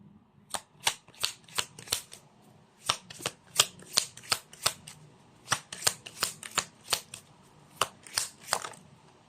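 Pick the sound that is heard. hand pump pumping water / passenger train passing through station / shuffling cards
shuffling cards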